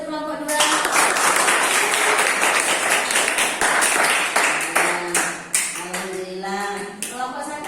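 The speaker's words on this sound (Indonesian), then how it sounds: "Beri tepuk tangan untuk kelompok 2." Students in a classroom applaud their classmates from group 2 after a math presentation. Dense, lively clapping fills most of the stretch, and several voices talk and call out over it before it thins out.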